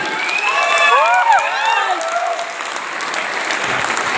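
Loud, dense applause from a meeting audience at a resort, steady clapping throughout with some whoops and shouted voices rising over it early on.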